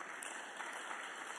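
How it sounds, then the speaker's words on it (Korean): Church congregation applauding at a Sunday afternoon worship service, a dense, steady wash of clapping that holds evenly for the whole moment with no talk over it. "박수가 자동으로 나오네."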